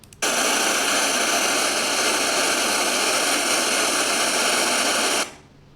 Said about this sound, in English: And here is the pink noise.